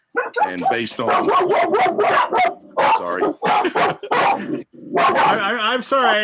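A dog barks loudly and repeatedly at close range, sharp yapping bursts breaking into whiny yips at the end, while a person talks over the noise.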